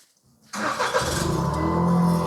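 A car engine cranks and catches after a short silence, then settles into a steady, loud idle with a low rumble, close to the microphone; the car is fitted with a device meant to give it a sports-car exhaust sound.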